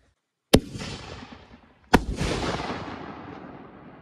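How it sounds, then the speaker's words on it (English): A pink Neon Super Can firework shell bursts twice with loud, sharp booms about a second and a half apart, each followed by a long crackling, fizzing tail that fades out. "For shell two, same Neon Super Can in pink."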